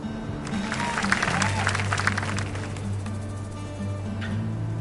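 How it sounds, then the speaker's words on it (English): Applause from a crowd in the video game My Time at Sandrock, a steady wash of clapping at moderate loudness over a low droning background hum. "let's give a special round of applause for our core construction team"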